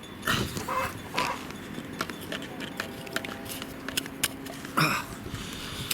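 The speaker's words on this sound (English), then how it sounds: "it's raining on me" Steady patter of rain falling outdoors, a dense crackling wash with occasional louder taps and a few brief bursts.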